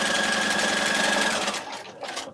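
A sewing machine runs at steady speed stitching a quilt strip for a log cabin quilt, a close, loud continuous whir that slows and stops near the end.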